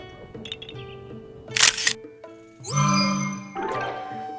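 A camera shutter clicks in a Zelda game as a picture of a dragon is taken: two sharp snaps, then a bright chime rising and ringing, followed by a softer sparkling tone over a steady game soundtrack.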